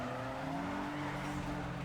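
Car in the NFS Underground 2 video game sliding sideways in an Outrun race, engine droning with tyre squeal and skidding held steadily for a couple of seconds, a voice faintly beneath.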